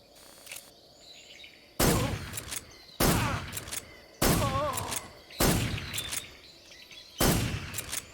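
Gunfire in Metal Gear Solid 3: five sharp shots spaced about a second apart, each with a ringing decay, set over a faint jungle backdrop with bird chirps between them.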